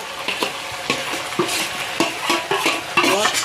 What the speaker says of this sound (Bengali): মশলাটা আদা কাঁচা লঙ্কার সঙ্গে কষিয়ে নেব